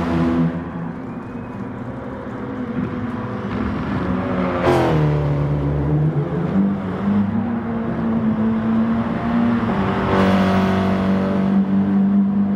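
Audi TT Cup race car engine on a circuit, heard from onboard as it revs hard, with repeated rising pulls and sharp upshifts, loud and close throughout.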